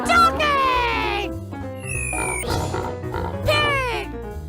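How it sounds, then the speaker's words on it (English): A cartoon pig oinks and squeals in quick bursts alongside other playful animal noises, bright and close, in a toddler animal-sounds setting. "Pig!"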